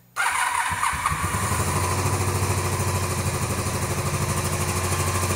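Cafe racer motorcycle engine fires up and settles into a steady, loud idle while warming up, close by and alone with a continuous throbbing rhythm.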